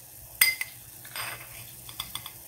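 A metal spoon clinks sharply against a pot while adding baking soda to boiling water for cleaning silver, giving one loud strike followed by a few lighter taps and a soft rustle, with no voices.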